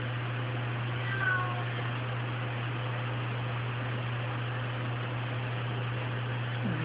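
A cat meows a couple of times, soft and fairly close, over a steady electrical hum and background hiss with no talking.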